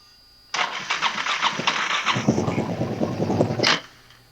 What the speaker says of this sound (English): And now, it'll crank up.